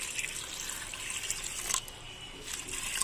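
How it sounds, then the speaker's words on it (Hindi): Water is poured into a pot of lentils with chili and tomato for mutton dalcha, a close, steady trickle and splash lasting a few seconds with no talking. "इसमें थोड़ा से पानी डालकर इसे बॉईल होने के लिए रख देते हैं"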